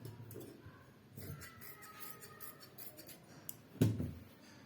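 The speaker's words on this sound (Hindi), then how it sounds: "तो हम इसको यहाँ से काट लेंगे।" Scissors snip through heavy salwar fabric in several short, crisp cuts, moderately close and quiet, with light rustling of the cloth between snips.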